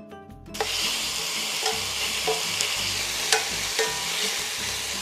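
Tomato paste is stirred into browned beef sizzling in a pot. A brief sound at the start gives way to a loud, steady frying hiss with occasional clinks and scrapes from stirring.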